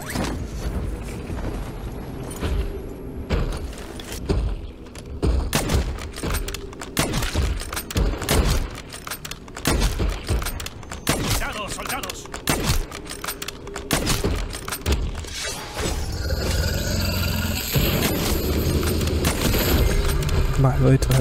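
Gunfire in the zombies mode of the video game Modern Warfare 3: rapid bursts and single shots crack repeatedly over a dense, busy game mix, with a voice talking across it.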